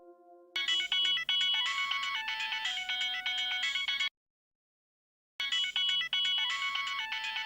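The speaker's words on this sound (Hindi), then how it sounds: "अरे वाह, बहू का फोन है।" A mobile phone ringtone plays a bright, repeating electronic melody in two loud bursts separated by a short silence, with no talking over it.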